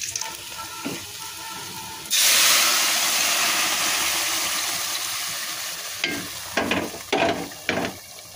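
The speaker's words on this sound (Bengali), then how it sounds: "এবার সিদ্ধ করা সবজিগুলো এর ভিতরে ঢেলে দেবো।" Boiled vegetables are tipped into browned onions frying in mustard oil, a sudden loud hiss that slowly fades into a steady sizzle, followed by several clattering stirs against the pan, with no voices.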